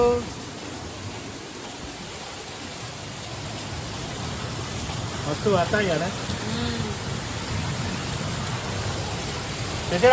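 Steady rain pouring in Hyderabad, a dense even hiss close by with a patter on surfaces, while someone speaks briefly over it.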